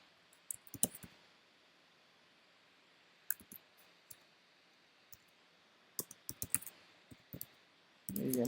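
Code being typed on a computer keyboard gives sparse, crisp key clicks in small irregular groups with pauses between them, close and quiet. A louder rustle comes at the very end.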